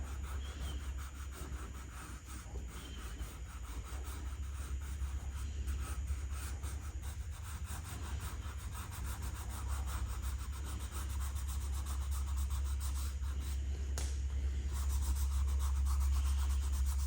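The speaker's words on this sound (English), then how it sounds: "So rubbing that gently with one finger." A finger rubs soft pastel gently across paper to blend it, making a steady, soft scratchy friction that runs continuously and close, with no talking, over a low background hum.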